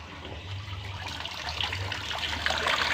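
Water from a shower spout pours steadily into a catfish bucket pond, a continuous splashing wash that grows slightly louder toward the end, with a low hum underneath and no talk.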